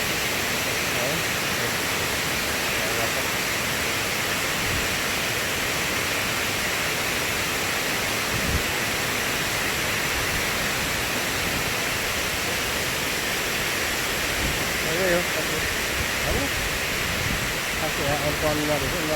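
Water flows steadily near Aberdeen reservoir along a hillside route, a continuous broadband rush with faint voices talking underneath at times.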